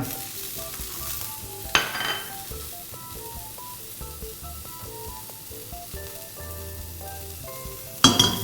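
Steady sizzling of garlic stalks frying in hot oil in a wok, with a couple of sharper clatters from the pan near the start and end.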